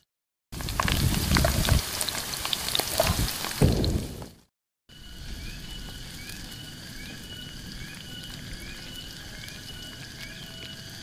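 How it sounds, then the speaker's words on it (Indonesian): Vegetables are stir-fried in hot oil in a pan in a remote village kitchen. A loud, crackling sizzle with spatters comes first, then settles into a steady, softer frying hiss. "kita langsung goreng"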